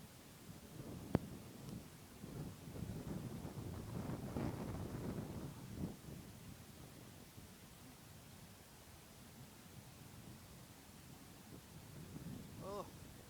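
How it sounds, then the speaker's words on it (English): Strong gusty wind roars across an outdoor microphone as a low, rushing rumble that swells and eases throughout, with a brief sharp knock near the start. "it's mighty windy"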